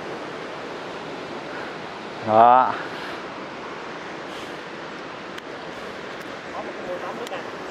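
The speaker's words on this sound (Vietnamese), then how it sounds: "tôi bây giờ quay cái thác nước cho các bạn coi nha" Tình Tang waterfall in Đam Rông, Lâm Đồng, a steady broadband rush of falling water that holds at an even level throughout, with a man's brief spoken word partway through.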